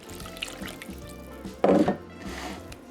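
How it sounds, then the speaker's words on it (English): Wet chocolate cake batter ingredients, stirred with a spoon, are poured into a well in flour, giving a brief liquid splash and glug lasting about a third of a second, close and fairly soft. "I'm just gonna give it a slight stir with a spoon and then pour it into our well."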